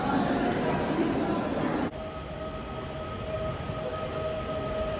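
A train pulls into a station in Poland with a loud rolling rumble that cuts off abruptly partway through, leaving a quieter hum marked by a steady high tone.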